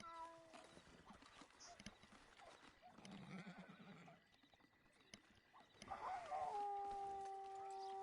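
A horse in the video game Red Dead Online whinnies and neighs, with clip-clopping hooves and other game sounds around it; the calls come in a couple of bursts, the loudest near the end, fairly close but at modest level.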